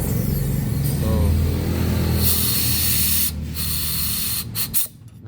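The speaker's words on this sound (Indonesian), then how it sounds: "Nah, sekarang kita semprot, perhatikan" Pressurized spray blasting through a cleaned car radiator hole, a loud continuous hiss that cuts off briefly mid-way, resumes, then sputters and stops in short bursts near the end, with no talk.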